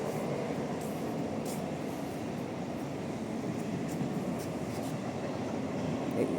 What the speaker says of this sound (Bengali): ট্রেন আসছে, ট্রেনের শব্দ তোমরা শুনতে পাচ্ছ